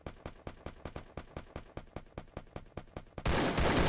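Rapid gunfire in the mobile video game Garena Free Fire, about fifteen evenly spaced sharp shots in a quick rhythm, followed by a sudden loud burst of noise at the end.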